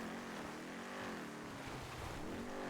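A vehicle engine runs in a steady, unbroken drone inside a role-play video game, holding a constant pitch throughout with no talk over it.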